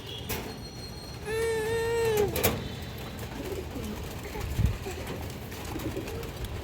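A male China Khaki pigeon gives one drawn-out coo near the middle, close and clear, amid background chatter and light rustling.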